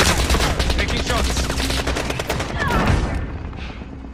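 Rapid automatic gunfire in Warzone, a dense loud burst of sustained shots that tapers off near the end, close and dominant.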